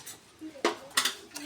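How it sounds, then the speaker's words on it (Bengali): A metal lid is set on a pot of simmering beef curry with potol and potato, giving a few short, close clanks and clinks. "এখন এটা ঢাকা দিয়ে রাখবো"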